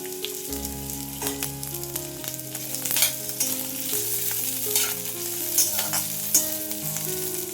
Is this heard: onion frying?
yes